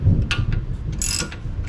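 Ratchet wrench working on the front air strut of a Mercedes W212 E-Class 4Matic, a few close metallic ratcheting clicks and clunks in quick bursts.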